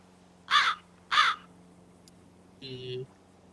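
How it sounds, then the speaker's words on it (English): A crow caws twice in quick succession, loud and close, then after a pause gives one lower, shorter caw, with nothing else around. "Okay, 2 caws for yes, 1 caw for no."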